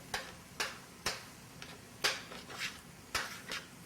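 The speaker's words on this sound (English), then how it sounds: "I'm going to put a couple tomatoes in there, and I'm going to crush them up with my spoon here" A spoon crushes canned tomatoes in a pot of turkey chili, giving sharp clacks and squelches of metal on the pot at a loose, fairly regular rhythm, about eight strikes, close and moderately quiet.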